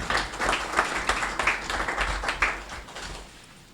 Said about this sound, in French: Je pense qu'ils méritent des applaudissements.